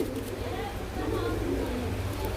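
Brand-new adult Giribaz high-flyer pigeons coo in low, throaty rolls, close by, repeating steadily against a murmur of background noise.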